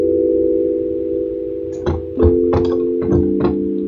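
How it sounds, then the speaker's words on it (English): Raw synth sound through three band-pass filters, a steady buzzy tone holding throughout, joined in the second half by several short filtered stabs at an uneven rhythm, loud and alone. "just the filter sound"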